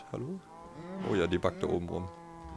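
Cows in Minecraft give several loud, close moos in quick succession, and a voice speaks briefly over them.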